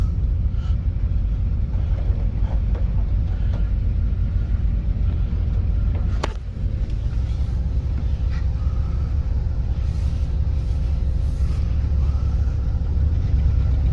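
A 1973 Buick Riviera boat tail, saved from a junkyard, idles in reverse with a steady low engine rumble and drone throughout, loud and close, with a brief thump partway through.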